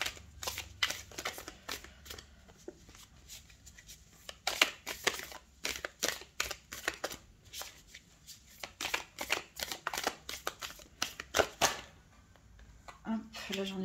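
Tarot cards are shuffled in bursts of crisp, close flicking and snapping, with a few cards jumping loose, the rhythm uneven and pausing briefly, and a soft voice near the end.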